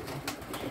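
Pigeons in a loft give soft, low cooing in short bursts, close and fairly quiet with no talk.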